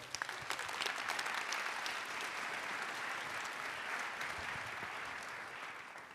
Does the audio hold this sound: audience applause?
yes